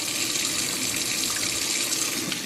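Water runs steadily from a kitchen tap while a boiled egg is peeled, a continuous close, loud splashing stream with no pause.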